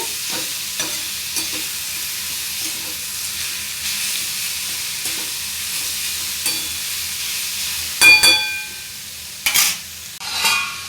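Ghevda beans sizzle steadily while being stir-fried in a pan, with a soft continuous hiss, occasional quiet taps, and a few louder scraping stirs of the spatula near the end.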